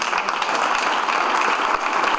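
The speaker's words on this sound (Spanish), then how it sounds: "Y aquí se hace la entrega, la cual aplaudimos todos los presentes" An audience at a government ceremony in Coahuila applauds the handover of an original dinosaur fossil to a museum, steady massed clapping from many hands, loud and continuous for the whole short stretch.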